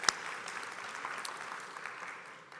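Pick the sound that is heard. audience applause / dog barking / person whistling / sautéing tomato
audience applause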